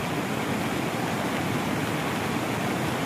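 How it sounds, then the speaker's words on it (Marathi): Floodwater rushes past after hours of heavy rain, making a dense, constant roar that is loud and close. It does not change for the whole stretch, and no voices are heard. "अजून पण पाऊसच चालू आहे। पाणी खूप वाढणार आहे।"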